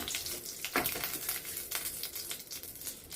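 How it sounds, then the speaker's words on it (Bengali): Bay leaves and dried red chillies are tossed into hot oil for tempering a healthy gourd and catla fish curry, giving a steady close sizzle and crackle with a brief sharper spatter early on and no voices. "এবার এই তেলেই আমি ফোড়ন দিয়ে দিচ্ছি তেজপাতা, শুকনো লঙ্কা,"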